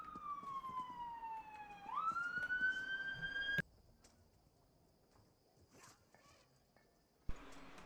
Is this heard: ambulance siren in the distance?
yes